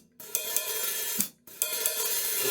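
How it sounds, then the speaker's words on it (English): A jazz ride-style pattern on an overly open hi-hat produces a washy, clangy sizzle with sharp accents and brief choked gaps, played alone at close range. "Don't open them too far or you get a really clangy sound,"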